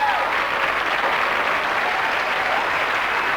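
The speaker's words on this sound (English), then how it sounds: "Why was Matt's mom applauding?" An audience claps together in a continuous, even burst of applause that fills the whole few seconds, loud and close with no voices over it.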